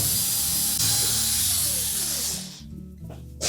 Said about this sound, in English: we're next going to remove these 3 retaining screws for the main top